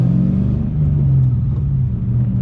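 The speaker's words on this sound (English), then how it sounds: "before we actually get this car rolling, we're gonna let it warm up" A supercharged 2009 Ford Mustang GT Roush race car idles as it warms up, a loud, close, steady low rumble with a faint whir and no talking.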